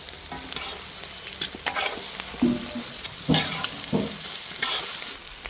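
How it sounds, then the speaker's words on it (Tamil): Grated coconut and onion sauté in hot oil in a pan, with soft crackling sizzle and intermittent scraping stirs of a spoon, close and moderately loud, no talking. "தேங்காயை போட்டு இப்போ வதக்கிறோம்"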